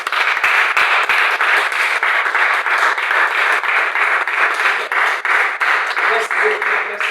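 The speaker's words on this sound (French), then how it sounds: "Un applaudissement pour vous-même." A conference audience claps for themselves, producing steady, close, dense applause with fairly regular rhythmic pulses throughout, heard without talk.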